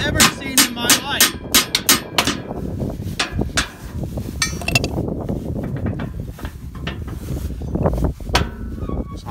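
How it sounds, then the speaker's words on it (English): Hammer blows on a trailer during hay preparation, a quick series of sharp metallic strikes at the start followed by scattered harder hits amid clanking and shuffling. "I need a bigger hammer."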